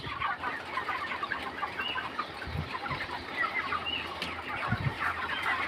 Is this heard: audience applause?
no